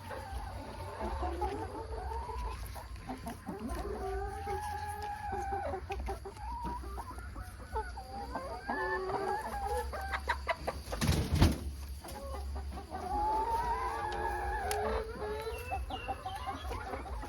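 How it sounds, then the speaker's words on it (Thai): Young laying hens that are just starting to lay eggs cluck and murmur continuously in a henhouse, with occasional louder squawks and crowing-like calls over a steady low background hum. "ไก่สาว เริ่มหัดออกไข่นะคะ"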